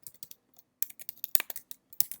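Keys clack on a computer keyboard in quick, uneven bursts, close and quiet with short pauses between keystrokes.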